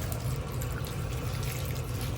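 Water poured from a cup into a pan of cabbage chow mein, a steady continuous pouring hiss without talk.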